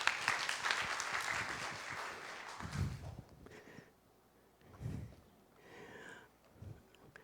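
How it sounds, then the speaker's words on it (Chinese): A church congregation at a revival meeting claps to welcome a pastor to the pulpit, the applause strongest at the start and then fading into scattered claps and room noise. "我们拍手来欢迎他，林真坤牧师。"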